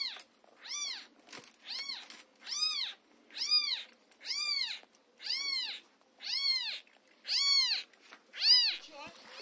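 A cat in rural Bulgaria meows repeatedly, about nine evenly spaced, drawn-out meows close to the microphone, with no other sound between them.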